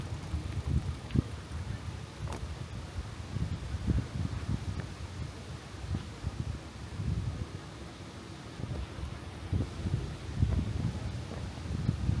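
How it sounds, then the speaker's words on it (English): Steady wind in a park buffets the microphone with low rumbling gusts that rise and fall throughout, no voices present. "it's getting quite windy."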